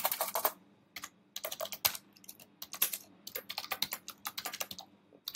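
Keys on a computer keyboard clatter in quick bursts of typing, broken by short pauses. The clicks sound close and crisp, with no voice over them.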